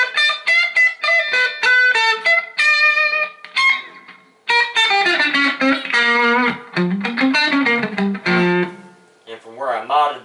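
Electric guitar played through a Marshall DSL15 amplifier with a little gain: loud, slightly overdriven chords and sustained bending notes with short pauses between phrases, close and alone, with no talking.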